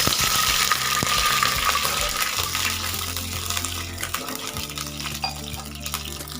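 Water pours steadily into a hot pan of fried garlic, a gushing splash that sizzles and slowly settles into a softer bubbling over several seconds.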